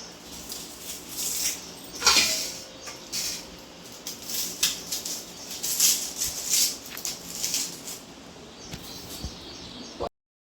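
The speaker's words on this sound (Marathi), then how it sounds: "तर आता त्याच्यासाठीचे कांदे आणि मिरची कापून घेते इकडं." Onions and green chillies are being cut in a home kitchen, giving a run of irregular crisp knife taps and scrapes, close and moderately loud, with short pauses between bursts.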